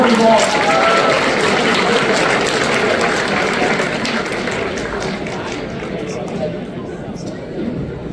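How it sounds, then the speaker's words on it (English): A hackathon kickoff crowd applauds the volunteers and testers, with sustained, dense clapping and cheering from many people in a large room, gradually tapering off. "please give a special round of applause again for all the volunteers"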